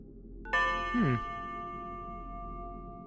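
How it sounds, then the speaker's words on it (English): A single bright chime dings once, then its tone rings on and slowly fades, with a brief murmur near the start. "you hear a chime that dings after you've placed each one of these"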